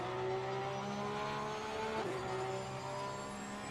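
A race car engine in Assetto Corsa Competizione at Laguna Seca drones steadily at high revs, briefly dipping around a shift or corner before climbing again, loud and continuous with no talk.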